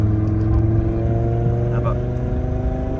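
A car rolls by at the Nürburgring with a loud, low engine drone and steady hum close at hand, while people talk over it.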